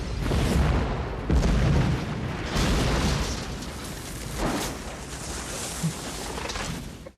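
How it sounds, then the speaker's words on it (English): Explosions from an action film, Clear and Present Danger (1994), land in several loud, deep booms that roll and rumble, with a dense blast followed by further thuds and a fading roar. "You guys already know I love explosions in movies, and that was great."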